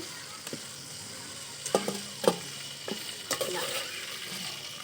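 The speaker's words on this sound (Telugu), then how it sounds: "ఇలా వేసుకున్న వంకాయల్ని నూనెలో బాగా వాడేదాకా వేయించుకోవాలి." Stuffed brinjals fry in hot oil with a steady soft sizzle, broken by a few sharp clinks and scrapes of a utensil stirring the pan.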